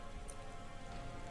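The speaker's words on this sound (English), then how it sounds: "Don't let all the rain get you down." Steady rain falling in the game Cloudpunk, a soft continuous patter of raindrops, faint and even with no talk.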